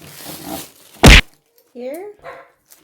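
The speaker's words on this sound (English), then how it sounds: "sorry for the barking, but my doggy is very wild" A single loud, sharp dog bark bursts out close by, with people talking before and after it.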